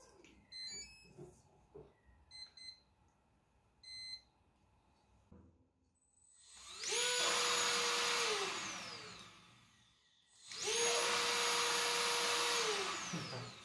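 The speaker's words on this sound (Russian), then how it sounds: "Сначала протестирую на своем самодельном пылесосе" A homemade vacuum cleaner is switched on twice, each run a loud rising motor whine that holds steady for a few seconds before winding down, preceded by several short electronic beeps and faint clicks.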